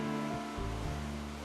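Bokho waterfall on Naeyeonsan sends down a powerful stream, heard as a steady, broad rush of falling water with a faint low tonal hum running beneath it.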